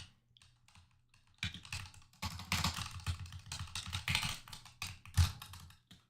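Someone types on a computer keyboard: faint isolated taps at first, then a dense, close run of rapid key clicks with uneven rhythm and no speech.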